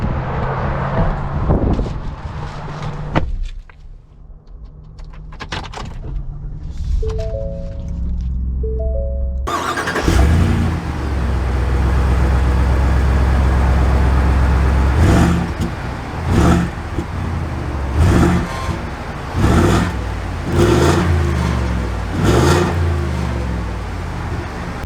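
A 2022 Ford F-250 Tremor pickup with the 7.3L V8 starts up and drives. A low, steady engine drone builds and rises, broken by clicks and mechanical thumps inside the cab.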